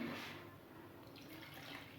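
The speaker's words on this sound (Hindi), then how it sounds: "मैं इसमें पानी अपने हिसाब से जितनी मैंने ग्रेवी रखनी है उतना ऐड कर लूँगी" Water poured into chicken gravy simmering in a cooking pot, a steady soft splashing and trickling pour that runs throughout, fairly quiet and with no talk over it.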